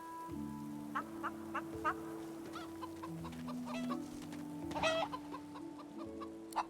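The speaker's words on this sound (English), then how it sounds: "Chickens?" Chickens cluck in a fantasy role-playing game, Divinity Original Sin 2, with repeated short clucks and croaky calls over sustained musical tones, no talk.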